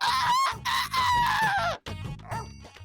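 A rooster crows in several drawn-out, strained calls with a short break between them, loud and close; the crowing sounds like a human voice imitating the bird.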